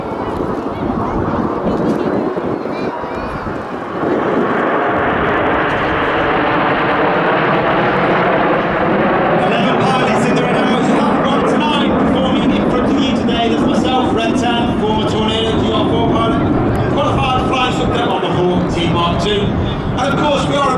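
RAF Red Arrows jets flying a loop at an air show roar loudly and continuously, the engine noise swelling and shifting in pitch as they pass, while a voice commentates over it.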